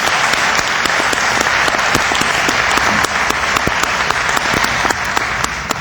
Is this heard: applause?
yes